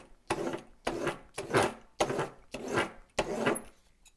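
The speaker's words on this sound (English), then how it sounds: "this is higher grit sandpaper, and so I'm going to use less pressure" A broadhead blade held in a KME sharpening jig is drawn across fine-grit sandpaper with light pressure, giving five distinct close rasping strokes in a steady rhythm, each a short scrape with no talking.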